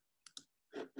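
Two quick, sharp mouse clicks on a computer, close and distinct, followed by a pair of louder, fuller bursts of sound.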